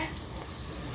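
Ube turon with rice and cheese frying in hot oil, a steady close sizzle and bubbling that runs evenly throughout with no voices.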